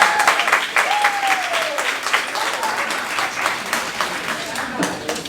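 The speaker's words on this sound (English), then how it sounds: "another round of applause for all our graduates" Loud applause for graduates at a graduation celebration, dense clapping with a few scattered voices and cheers mixed in, sustained and close.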